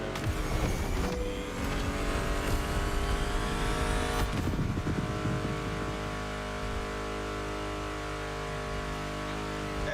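Car engines from the racing game The Crew Motorfest roar continuously and loudly, with a revving surge near the start before settling into a steady drone mixed with music.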